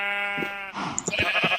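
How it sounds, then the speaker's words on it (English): Sheep bleat in Minecraft, a long harmonic bleat followed by a second, choppier bleat with soft blocky game sounds, close and clear with no talking. "And we also have sheep"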